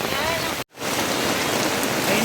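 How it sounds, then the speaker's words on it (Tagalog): Heavy rain pours steadily onto a camping tarp at a beachfront campsite, a dense, loud, unbroken hiss that cuts out for a split second near the start, then resumes at full strength. "At umulan na nga ni."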